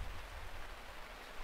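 Rain falls steadily, a soft, faint, even patter and hiss with no other sounds.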